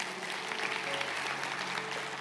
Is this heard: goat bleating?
no